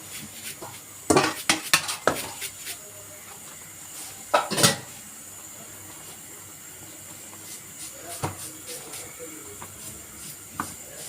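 A spatula scrapes and clacks against a pot while stirring rice-flour batter for chhoi pakon, with sharp metallic knocks clustered near the start and again midway over a faint steady hiss.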